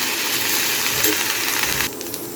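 Curry leaves sautéing in a pan for a curry leaf thogayal, giving a steady, fairly loud hiss and sizzle that drops slightly toward the end.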